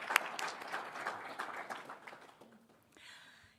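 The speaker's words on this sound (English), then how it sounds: "let's give those young scholars an applause." Audience applause for a group of young scholars at a family business center event, a dense patter of many hands clapping that trails off after about two and a half seconds, followed by a brief soft hiss.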